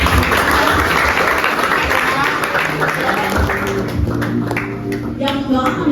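Loud applause from an audience at an Indonesian book discussion gathering, dense clapping filling the whole stretch while a voice talks over it.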